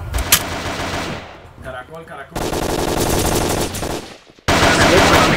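Bursts of rapid automatic gunfire from a video game, loud and sustained with brief pauses between volleys, while a voice speaks briefly.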